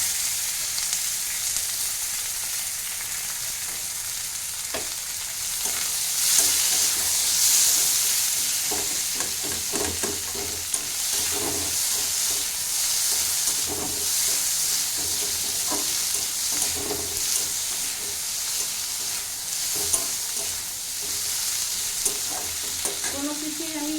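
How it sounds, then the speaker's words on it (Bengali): Bay leaf, tomato and onion fry in a pan for a Bengali home-style fish curry, giving a constant close sizzle and hiss broken by occasional stirring scrapes, with no talking. "তেজপাতা ফোড়ন নেব এবার আমি টমেটো পেঁয়াজ সব দিয়ে দেবো"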